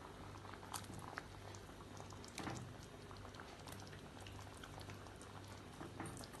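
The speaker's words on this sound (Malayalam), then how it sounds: "ഇപ്പം ഈ ഗ്രേവി നല്ലോണം തിളച്ചിട്ടുണ്ട്." Goan-style pomfret fish curry gravy boiling in a pan, with soft, continuous bubbling and scattered small pops, heard faintly and close up with no talking.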